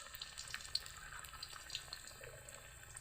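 Bottle gourd chops frying in hot oil, a soft steady sizzle with faint crackles and pops, quiet and close with no talking.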